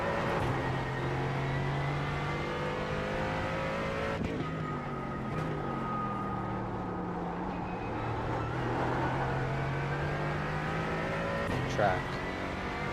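A Mercedes GT4 race car in the iRacing simulator during a Falken Tyre Sportscar Challenge race at Circuit de Lédenon. Its engine drones steadily and loudly throughout, rising and falling in pitch through gear changes, with a brief sharp shift near the end.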